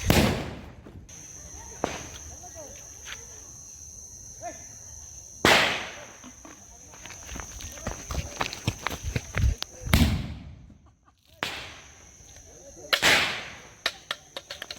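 Diwali firecracker bombs burst in a village setting, four sharp loud bangs spaced a few seconds apart, with crackling debris and people talking and moving about between the blasts.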